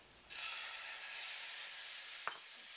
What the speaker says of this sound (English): We'll add the oil again, a couple teaspoons, and we're going to cook the carrots